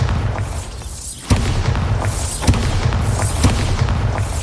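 Bombarda spell explosions in the video game Hogwarts Legacy, several sharp booming blasts at irregular intervals, each a sudden loud burst over a continuous rumbling game background.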